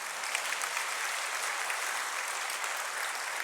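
A church congregation applauds during a Sunday worship service, dense, even clapping that holds steady throughout with no voices above it.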